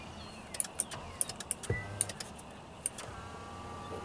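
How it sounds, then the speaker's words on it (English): Electric power seat motor in a 2001 Mercedes-Benz C240 hums briefly amid light clicks and small interior taps, quiet and close inside the car, with no talking. "Let's see if the power seat actually works. Oh, there it goes."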